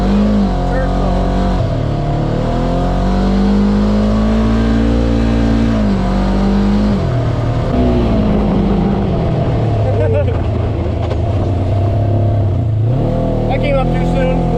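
A Polaris RZR 900 Trail Edition 50-inch side-by-side driving across a field in turf mode, its engine loud and close, rising and falling in pitch as the throttle changes, with occupants talking over the running motor.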